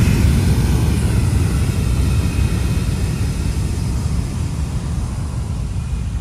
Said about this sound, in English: Like a plane had just taken off.